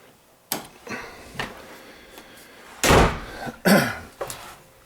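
Paired 24-inch closet doors in a finished basement shut with several sharp wooden knocks and slams, two of them louder than the rest, separated by quiet gaps and close by.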